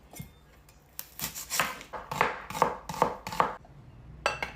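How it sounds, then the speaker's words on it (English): A knife slices an onion on a cutting board in a steady run of about nine crisp, close chops, each a sharp tap, with a short pause before a final pair. "And then slice up our onion."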